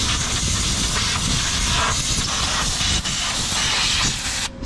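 Compressed air blasts steadily through the engine bay of a Suzuki Vitara during cleaning, a loud continuous hiss with slight shifts in pressure before cutting off at the end.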